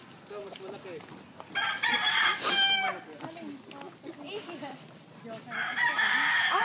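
A rooster crows loudly twice, with other chickens clucking and birds chirping around it in an outdoor yard.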